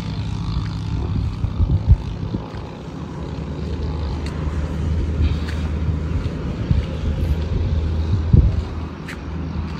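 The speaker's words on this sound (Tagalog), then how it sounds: "Ito yung Air Force jet ng Pilipinas." A Philippine Air Force jet flies overhead, a steady loud low roar with wind buffeting the microphone throughout, swelling slightly near the end.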